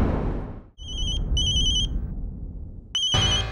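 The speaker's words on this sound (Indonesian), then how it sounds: "Telepon dari kantor." An office phone rings in short electronic trilling bursts, clear and close, over a steady background hum in an Indian drama scene.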